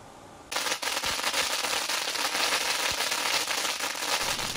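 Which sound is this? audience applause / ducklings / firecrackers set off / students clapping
firecrackers set off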